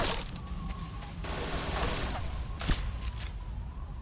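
Gunfire in the video game Metal Gear Solid Snake Eater comes as bursts of rapid shots with one sharper crack near the middle, over a dense game soundscape.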